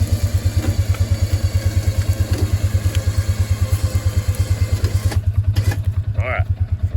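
Vehicle engine running while a winch pulls a log in during trail clearing for firewood, with a rapid, even, close throbbing pulse that holds steady, then thins out near the end.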